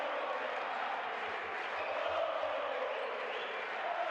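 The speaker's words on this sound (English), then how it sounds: "You're hearing it from the crowd now." A basketball arena crowd during a late-game free throw, a steady, dense roar of cheering and noise that holds at an even level throughout.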